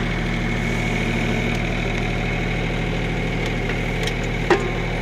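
A John Deere compact tractor with a backhoe attachment, trenching, runs with a steady, close diesel idle-like rumble and a constant low vibration, unbroken throughout, with one brief clank near the end.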